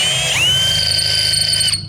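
A power drill bores a hole with a loud, close motor whine that rises in pitch as it spins up, holds steady under load, then cuts off near the end.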